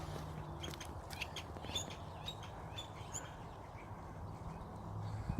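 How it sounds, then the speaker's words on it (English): Woodpeckers calling outdoors in early spring, a series of faint, short chirping calls scattered over a low steady outdoor background. "oh, they're woodpeckers."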